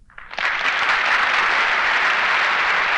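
A studio audience at a radio theatre broadcast breaks into loud, sustained applause that swells in quickly and holds steady, dense and close.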